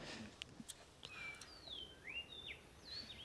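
Faint, distant birds chirp in the ambient soundscape of the Counter-Strike map Overpass during an ELEAGUE Major qualifier match, with a few sweeping whistled calls and scattered short tweets over quiet background.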